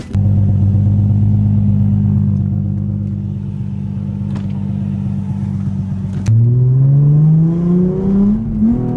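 A car engine runs steadily up close with a low drone, then climbs in pitch as the car accelerates and revs on the way to a repair shop, with no one talking.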